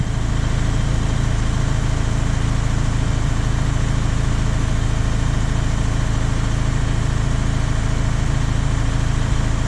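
DAF LF truck diesel engine idling steadily with a constant low rumble and dense mechanical clatter, close and loud throughout, no talking.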